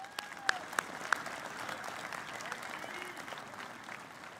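Applause from the audience at a university commencement ceremony, a steady moderate clapping of many hands at some distance, with a few sharp louder claps near the start.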